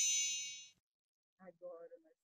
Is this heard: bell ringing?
yes